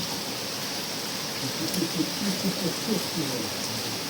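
Heavy rain falls in a steady, dense hiss outdoors on dry farm ground, with faint patters and low murmurs underneath that may be a voice.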